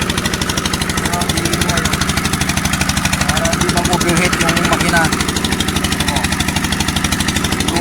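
A loud engine runs steadily with a fast, rough mechanical chugging, close by, and a voice speaks faintly beneath the noise.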